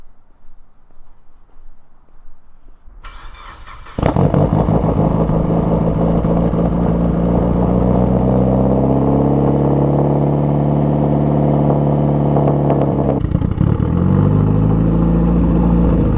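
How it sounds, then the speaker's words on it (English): A car engine, one that smoked heavily on cold starts, cranks briefly and catches, then settles into a loud, steady idle with a small dip and a second catch near the end; no talking. "fire up the car, see if it smokes on cold start like it was before really badly"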